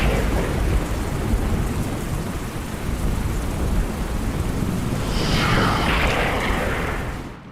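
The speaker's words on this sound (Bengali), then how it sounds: "সকাল থেকে মুষলধারে বৃষ্টি শুরু হলো কলকাতায়" Cartoon sound effect of a heavy monsoon downpour over Kolkata, a dense roaring wash of rain with low booming thunder rumbles, loud and continuous before fading at the end.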